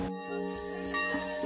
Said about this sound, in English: That sound you're hearing is the sound of bells as the community of Africatown commemorates 400 years